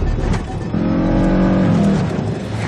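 A rear-wheel-drive minivan on oversized tires revs hard on a rough rocky trail, its engine climbing in a loud steady drone with strained tonal whine as the tires spin, close and continuous without talk.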